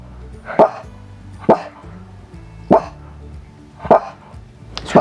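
A dog at home barks at a passing car in single sharp woofs, about five of them spaced roughly a second apart, loud and nearby, with quiet room sound between them.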